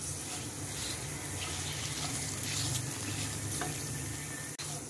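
Whole cardamom, cinnamon and dried chili frying in oil for an egg and chana dal, giving a continuous, close, fairly loud hiss with a faint scrape near the end.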